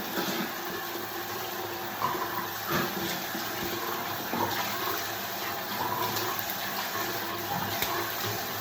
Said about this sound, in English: Dry off the blade, lay that aside, and let's do a rinse